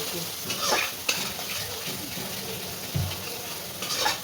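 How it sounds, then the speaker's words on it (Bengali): Spices with Kashmiri chilli powder and salt stirred and sizzling in a pan for a prawn dish, a soft steady fry with a few clinks and scrapes of the spatula. "নুন দিয়ে এবার এটা কষাবো"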